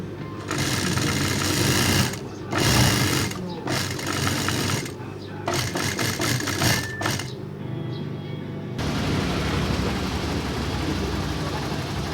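Sewing machine stitching the seam of trousers being reshaped into skinny legs, running in loud bursts of rapid mechanical whirring with short pauses between, then steadier hum toward the end.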